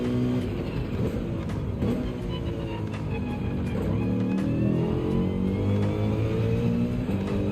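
A race car engine from Gran Turismo 7 on the Catalunya circuit drones loudly and steadily, its pitch rising and falling through gear changes for several seconds with no talk over it.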